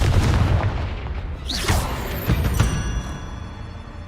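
Confringo fire spell from Hogwarts Legacy bursting in a cave, a muffled low boom with a rumbling tail amid continuous game noise, plus a swooshing sweep and a second thump shortly after.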